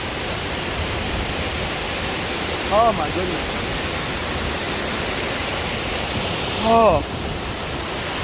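Ramsey Cascade waterfall in the Great Smoky Mountains, a powerful, constant roaring rush of water close by, with a person briefly exclaiming over it twice.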